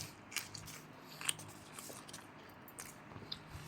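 Faint, close chewing of steamed sticky rice that is not very soft: soft sporadic bites and light crunches over a quiet background.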